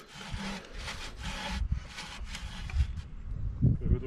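A hand saw cuts through wood in steady back-and-forth strokes, each rasping pass close and clear, with some scraping and knocking between strokes.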